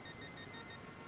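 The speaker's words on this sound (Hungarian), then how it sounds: "vagy csöng egy mobiltelefon" A mobile phone ringtone chimes faintly on a steady, sustained electronic tone, heard alone and without any voices.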